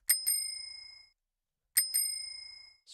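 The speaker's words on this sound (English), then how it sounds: "bike bell" A bicycle bell rings twice, each time as a quick double ding with a bright, lingering metallic tone that fades out before a short silence.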